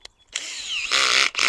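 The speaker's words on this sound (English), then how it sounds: "Let's use this auger. I'm going to start out kind of slow." A power auger digging a planting hole for tomatoes starts up with a quick rising whine, briefly dipping before revving back to a loud buzzing drone.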